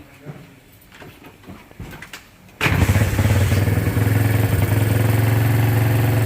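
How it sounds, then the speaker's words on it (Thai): An old Honda Wing motorcycle for sale fires up after a few seconds of quiet shuffling and clicks, then settles into a loud, steady, throbbing idle close by. "ก็รถขี่ได้ปกติทุกอย่างมาลองฟังเสียงกันหน่อย"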